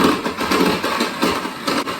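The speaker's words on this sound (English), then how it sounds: "I'm going to throw some ice cubes right in the blender" A blender crushing ice cubes for a summer smoothie, loud continuous grinding and rattling with uneven pulses and no speech.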